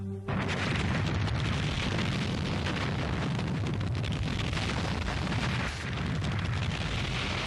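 A whole planet blowing up in a Hindi television sci-fi drama: a dense, continuous roaring rumble that fills the clip loudly from start to end, with no voices.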